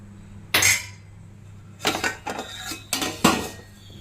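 A metal lid goes onto a cooking pot of semiya rava upma: a sharp clank near the start, then a cluster of rattling clinks and taps as it is shifted and settled, close and distinct in a quiet kitchen.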